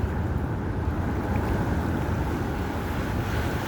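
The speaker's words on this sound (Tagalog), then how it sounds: "Nakakatakot yung alon, no?" Large ocean waves crash at Sumadag in a steady, dense roar, loud and close, with heavy wind buffeting the microphone the whole time and no talking.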